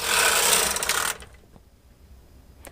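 A knitting machine carriage sweeps across the needle bed once with a loud, dense rasping slide for about a second, then stops, leaving faint clicks in a quiet room.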